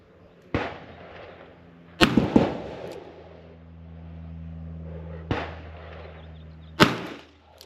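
A Smith & Wesson Model 10 revolver is fired single action at a 25-yard target. About four sharp, loud shots are spaced a second or more apart, each followed by a short ringing decay.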